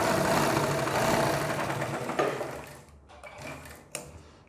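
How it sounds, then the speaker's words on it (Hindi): Sewing machine stitching a strip onto a kurti, a continuous mechanical whir running loud for about two seconds before slowing and fading into a few softer, intermittent stitch bursts and clicks. "इसी तरीके से दोस्तों आपको दूसरी पट्टी को यहाँ पे रखना है और इस पर भी सिलाई लगा के इस पट्टी को भी जमा लेना है।"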